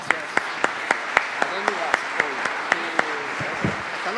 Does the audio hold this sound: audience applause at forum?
yes